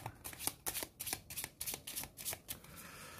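Cards from the Pandemic Legacy board game being shuffled and drawn: a quick series of close, crisp riffling snaps and flicks in an uneven rhythm, with no speech.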